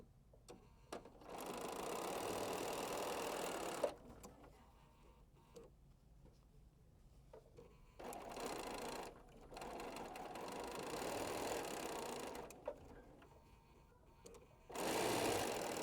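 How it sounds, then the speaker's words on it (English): Sewing machine stitching quilt rows together in bursts: two long runs of fast, even stitching and a short final burst, separated by quiet pauses with small handling clicks, no speech. "Now I'm just going to stitch my rows together."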